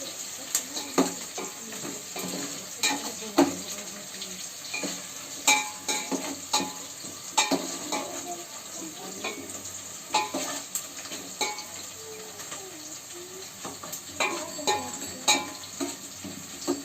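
Onions frying in a pan for egg biryani, a steady sizzle with repeated metal spoon scrapes and clinks from stirring, close and continuous throughout.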